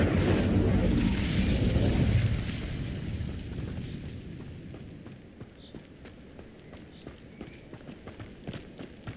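An Incendio fire spell cast in Hogwarts Legacy, a loud whooshing roar of flame at the start that fades into a softer crackle, followed by steady light footsteps or hoof-like taps.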